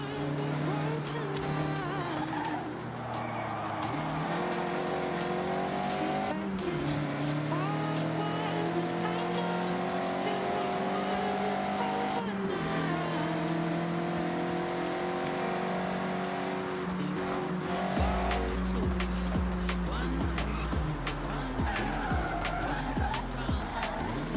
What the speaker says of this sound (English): Attack these corners. Anjing, Don't worry about nyaris. traction. The MX-5 likes to be sideways.